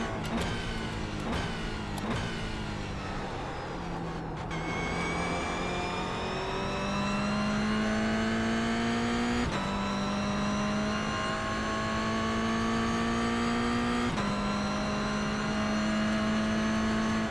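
Mazda MX-5 race car engine at Oulton Park at night, revving through the gears with repeated upshifts as the pitch climbs and drops, loud, close and continuous with no talk.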